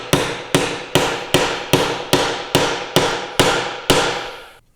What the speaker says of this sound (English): I think we're going to need a hammer on that.